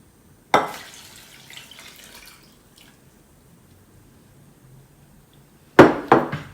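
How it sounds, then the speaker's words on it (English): Tap water splashes into a bowl of chilies for salsa: a sharp gush that trails off over a couple of seconds, then quiet, then another burst of splashing near the end. "add some water."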